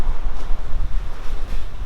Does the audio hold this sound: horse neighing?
no